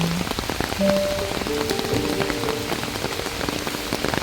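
Steady rain patters across a botanic garden, a dense even hiss of drops hitting leaves and surfaces, with a few faint tonal sounds in the background and no talking.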